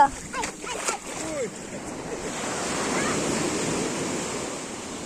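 Ocean surf washing up the shore in a broad, hissing rush that builds and holds, with excited voices briefly at the start.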